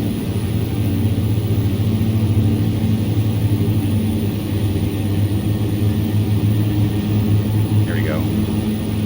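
Aircraft engine droning steadily in the X-Plane 11 flight simulator, a loud continuous hum with a constant high whine above it, running unbroken throughout.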